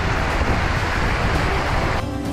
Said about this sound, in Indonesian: Saking kencangnya aliran air curug ini, cipratan airnya terasa sakit di kulit